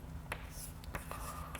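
Chalk or marker tapping and scraping on a board during a continuum mechanics lecture, with a few sharp strokes faintly heard over a quiet room hum.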